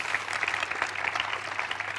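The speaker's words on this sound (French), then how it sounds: "On peut l'applaudir" Steady applause from a conference audience after a talk on chatbot design, a dense patter of many hands clapping evenly for a couple of seconds with no voices over it.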